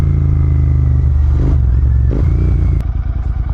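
Loud, steady Continental GT650 motorcycle engine drone with clattering jolts and rattles, as if bouncing over a bumpy rain-hit road, continuous throughout.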